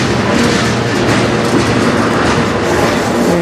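A CN freight train rolls past close by in Sarnia, Ontario, with a loud continuous roar and rumble of railcars and faint rhythmic wheel clatter, no voices.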